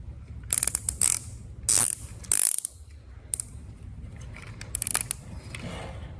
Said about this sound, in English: we're going to take a zip tie and just zip tie the pump